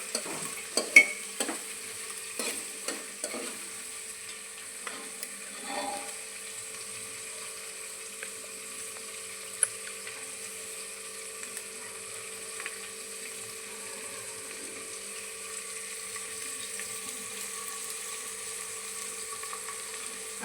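Onions and two green chilies frying in a pan for khichdi, a soft steady sizzle with a few clinks of a stirring spoon at the start, then a quiet continuous hiss.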